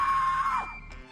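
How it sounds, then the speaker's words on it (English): Naru, a young woman in the film Prey, lets out a single sustained victory scream that is loud and tonal, then trails off into a short fading breath. "after the lackluster fight, Naru screams for victory."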